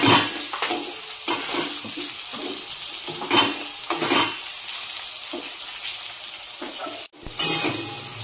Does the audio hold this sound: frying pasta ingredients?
yes